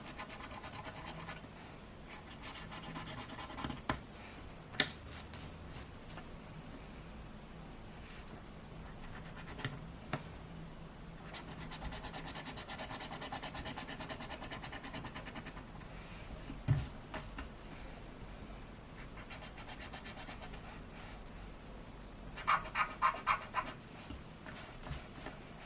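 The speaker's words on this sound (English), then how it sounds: "I like a nice scribble from time to time." Quick scratchy scribbling strokes of a stylus on scratch drawing paper for card making, close and quiet, in irregular bursts of rubbing with short pauses and occasional sharper taps.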